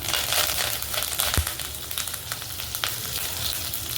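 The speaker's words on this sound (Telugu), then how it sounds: "ఇప్పుడు కొంచెం ఆవాలు వేసుకుందామండి. అలాగే కొంచెం కరివేపాకు వేసుకుందాం." Mustard seeds and curry leaves sizzle loudly in hot oil, a dense, steady crackling hiss with scattered pops, close up and without speech.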